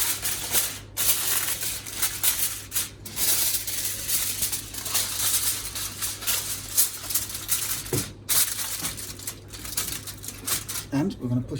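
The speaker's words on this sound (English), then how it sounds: "And I'm going to cover that in foil." Crinkling, rustling aluminium foil being pressed and folded, a dense papery crackle throughout with a few sharper crinkles, close by.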